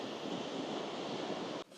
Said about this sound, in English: I love the way the waves turn white when they hit the black rocks